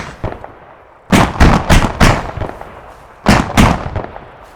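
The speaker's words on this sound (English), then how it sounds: "what it's doing right now is shooting the building where it believes we're at" Heavy gunfire from an AI-controlled vehicle pounds a building in the military game Arma 3, arriving as loud clustered bursts of booming shots with short gaps between volleys.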